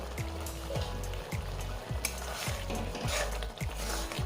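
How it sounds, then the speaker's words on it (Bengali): Green tomato jhal with mustard oil being stirred in a frying pan, rhythmic scraping strokes roughly every half second over a soft sizzle, close up, with no talk. "এবার নেড়ে চেড়ে নিচ্ছি"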